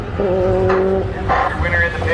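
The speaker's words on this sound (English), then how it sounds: "Civic going up against the GTR." Cars launching at a no-prep drag race at Orlando Speed World, a Honda Civic against a Nissan GTR, loud engines revving with a tonal whine and a rising roar partway through, under crowd chatter.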